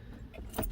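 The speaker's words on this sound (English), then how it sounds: "Oh, actually the key now won't come out." Car key jangling as it sits stuck in the ignition of a BMW E90 with a nearly dead battery, a brief close metallic rattle.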